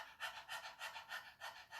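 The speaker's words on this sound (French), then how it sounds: "Voilà la respiration du feu." Rapid rhythmic panting for breath of fire, drawn through the nose: about six or seven quick, even, breathy pulses, close and soft with no talk.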